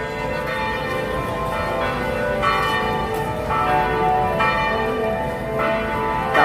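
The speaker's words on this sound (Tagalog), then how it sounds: "Ngayon na lang ako nakarinig ng kalembang ng kampana." Bells of Antipolo Church ring loud and close, with overlapping rich metallic tones struck in a steady, repeating pattern for several seconds, and no voices.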